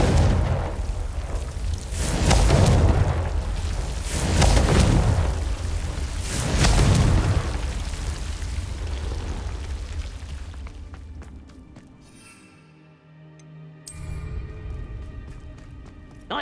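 A Confringo fire spell bursting in the Hogwarts Legacy game, heavy rumbling booms rolling repeatedly for several seconds, then fading into quieter crackling debris with a brief sharp burst near the end.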